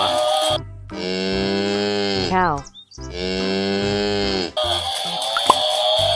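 Two long, loud cow moos sound one after the other, each a sustained low bellow ending with a falling bend, followed by a brief stretch of background noise.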